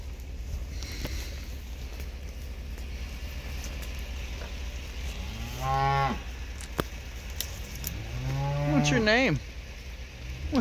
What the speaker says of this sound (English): The cow just licked my hand.